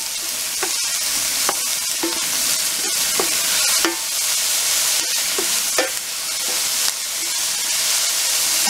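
Onions frying in a pan, stirred now and then, with a constant loud sizzle and hiss broken by repeated scraping strokes of a utensil every second or so, no voices.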